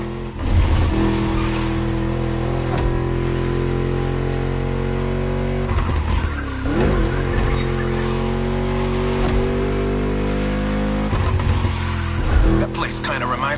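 A V8 car engine in The Crew Motorfest racing game holds a loud, sustained low roar while accelerating, with a few shifts and surges in pitch, heard up close alongside a talking voice.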